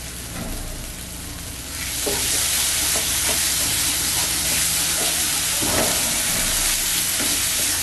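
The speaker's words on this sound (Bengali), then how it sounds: "আমি এতে মিক্স করব।" Potato stuffing for potoler dorma is mixed with sugar and salt in a pan, giving a loud steady sizzle with hissing and occasional stirring scrapes that swells after the first couple of seconds.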